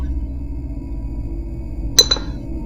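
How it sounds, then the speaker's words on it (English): A drinking glass gives two quick clinks close together near the end of a quiet indoor stretch, standing out briefly above a low steady hum. "Knock the glass over."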